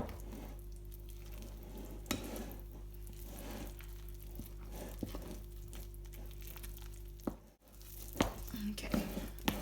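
Wet, sticky focaccia dough is stirred in a bowl, giving soft squelching strokes at an irregular pace, fairly quiet over a low steady hum.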